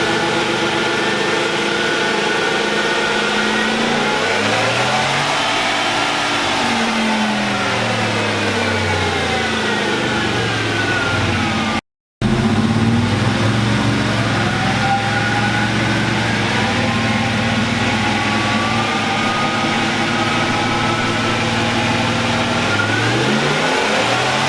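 A Dodge Hellcat with an upgraded supercharger pulley revs hard on a dyno, its engine sweeping up and down through repeated loud pulls with a brief cut midway, no voices over it.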